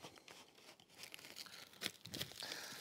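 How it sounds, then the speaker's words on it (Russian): Plastic cling film crinkles and tears as it is wrapped around a pot in a kitchen, with soft, close rustling bursts and a sharper crackle near the end. "Я могу ее вот так вот, смотрите-ка, завернуть пищевую пленку, чтобы она не высыхала."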